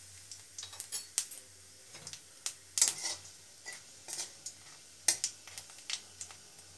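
Dry red chili and black cumin seeds tossed in hot oil as a tempering, heard as a series of small clicks and taps of a utensil against the pan with faint crackle, fairly quiet and irregular.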